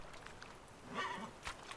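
Roach, a horse in The Witcher 3, gives a faint, brief whinny with a few soft hoof clops around it, quiet and close, with no talk.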